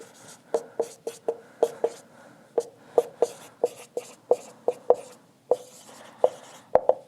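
Chalk writing on a board during a chemistry lecture, a steady series of short, fairly loud taps and scrapes in an uneven rhythm, each stroke distinct and close, with no talking.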